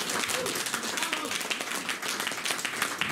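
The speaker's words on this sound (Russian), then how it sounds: "Вот от смеха и аплодисменты такие слабые" Scattered applause and clapping from a modest audience at a musical evening, moderately quiet and steady, with a faint murmur of voices underneath.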